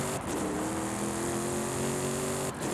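A diesel Jaguar with a huge 3150 Nm of torque, driven in Forza Horizon 5, runs with a steady droning engine and turbo note that slowly rises in pitch. It stays loud and continuous for the whole stretch, with no talk over it.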